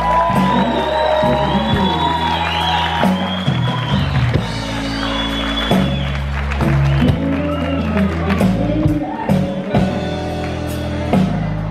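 A crowd at a blues band show in Oneida applauds and cheers for the drummer, with whoops and hollers over steady bass-heavy music and a voice talking through it.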